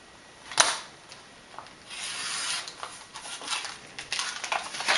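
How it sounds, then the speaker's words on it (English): A craft card blank being cut to size with a trimmer, heard as a sharp click followed by scraping, rasping strokes of the blade sliding along the paper, close and fairly quiet. "First thing we're going to do is cut one side of this card to 4 inches."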